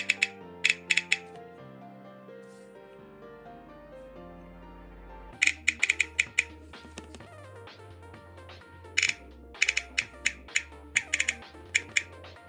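Rapid clicking ticks from an iPod-style click wheel scrolling effect added by an iOS 10 jailbreak tweak, coming in quick bursts over background music.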